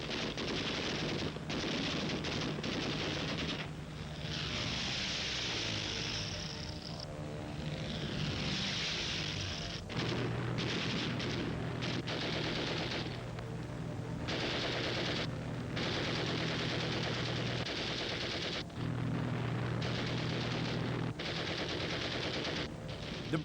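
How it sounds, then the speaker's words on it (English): Rapid bursts of machine gun fire crackle from WWII fighter planes, a Messerschmitt 109 and a British plane, over the droning roar of aircraft engines, with the firing starting and stopping repeatedly across a long, loud dogfight sequence. "They both start shooting wildly."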